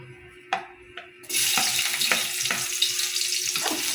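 Garlic hits hot oil for adobo, starting with a couple of clicks and taps before a sudden loud sizzle bursts up and holds, crackling steadily with light stirring knocks.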